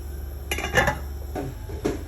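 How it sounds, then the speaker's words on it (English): A lid set onto a cooking pot while making Oha soup, a few light metallic clinks and taps against the pot rim, close but fairly soft, with no talking. "I'm going to cover the pot so that it can cook for a while"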